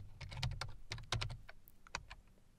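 Quick bursts of keystrokes on a computer keyboard while entering a PowerShell command, close and fairly quiet, with a short pause between two runs of typing.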